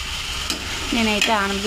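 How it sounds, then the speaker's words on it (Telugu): Pieces of bottle gourd sizzle and fry in a pan with cumin, dried red chillies and ginger-garlic, a steady hiss with a stirring scrape, while someone talks over it near the end. "కొద్దిగా జీలకర్ర, ఎండుమిర్చి, అల్లం వెల్లుల్లి ఫ్రై అయిన తర్వాత ఆనపకాయ ముక్కలు వేసి ఫ్రై చేయాలండి"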